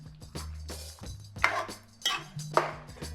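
A spoon scrapes and clanks against a pot while goat stew seasoned with salt and black pepper gets a final stir, in four or five distinct metallic knocks, close and alone.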